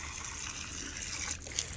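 Water poured onto garden plants, a short close gush and trickle of liquid with steady splashing and no talk over it.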